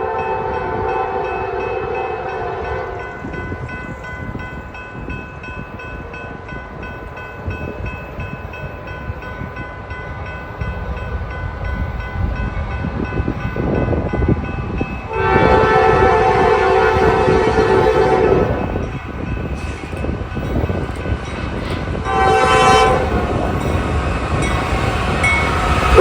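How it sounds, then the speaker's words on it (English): A Norfolk Southern intermodal freight train rumbles through the Wilson Bridge Road railroad crossing in central Ohio with a loud, continuous roll of cars, broken by two close, blaring horn blasts near the end. "I would find myself alongside the Sandusky District and Columbus Line subdivisions at the Wilson Bridge Road Railroad crossing for NS Intermodal"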